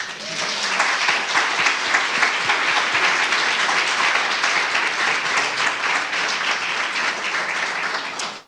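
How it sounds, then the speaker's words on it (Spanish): A church congregation at a Spanish-language service applauds, the clapping loud, dense and sustained for about eight seconds before cutting off abruptly. "Denle un aplauso al Señor."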